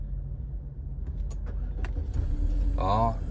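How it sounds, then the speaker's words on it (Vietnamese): A 2010 Daewoo Lacetti automatic with a 1.6 engine is started: a few sharp clicks inside the cabin, then a brief rising starter whine and the engine catching into a louder, steady idle near the end. "Sau đây em sẽ lổ máy lên các bác nhé"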